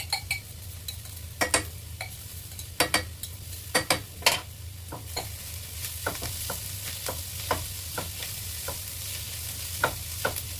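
Garlic frying in a pan for chicken curry, a constant low sizzle with a hum underneath and sharp utensil clicks and scrapes scattered throughout.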